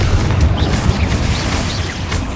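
Confringo explosion spell cast in Hogwarts Legacy, a dense, low rumbling blast that fills the short moment, loud and close with a continuous booming roar.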